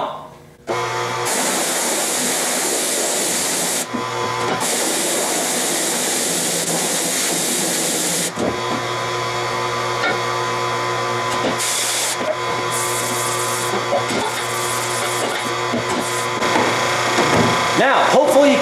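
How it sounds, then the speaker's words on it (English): Pressure washer spraying a wide fan of water to flood and rinse a screen-printing mesh screen, a steady loud hiss and roar throughout with a brief shift in tone midway, and someone talking over it. "hopefully you can hear me with the pressure washer"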